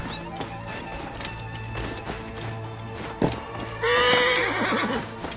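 A mare whinnies loudly over a steady game soundtrack with hoofbeats clopping, the neigh rising and trembling for over a second, in the video game Assassin's Creed Origins.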